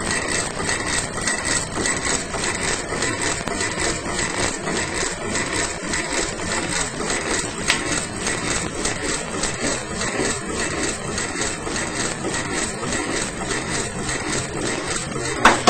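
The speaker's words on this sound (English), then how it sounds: "That's the generator, main part of the generator." A self-running 35-watt delay-line generator runs with a steady, dense mechanical hum and buzz, constant and fairly loud for the whole stretch, with no voices.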